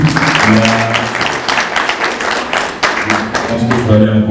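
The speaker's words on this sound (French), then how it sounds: "Je pense qu'il faut aller encore plus applaudir" Audience applause at a formal talk on Mali's foreign policy, a dense, steady clatter of many hands filling the room throughout, with some voices mixed in beneath it.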